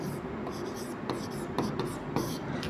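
Chalk or marker strokes on a classroom board during a Class 10 maths lesson on Thales theorem, a steady scratchy scraping with several brief sharp taps, faint and continuous over a soft background hum.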